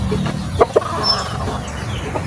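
A backyard chicken gives a few short clucks, two sharper ones standing out near the middle, against a steady low farmyard hum with no voices.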